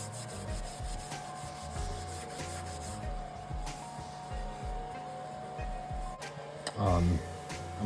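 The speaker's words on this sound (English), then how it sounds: "I'm just taking a Scotch-Brite pad and sanding it up nice and smooth." A Scotch-Brite pad scrubs a burnt wooden axe handle, giving close, rhythmic back-and-forth rubbing strokes that repeat steadily, with a brief louder knock near the end.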